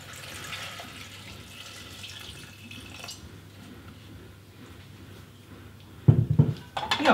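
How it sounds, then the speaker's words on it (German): Water from a tap runs into a Thermomix bowl over cut sweet potato chunks, a steady low splashing hiss for several seconds, then ending with louder clunks and knocks of handling near the end. "Dann geben wir Wasser drauf,"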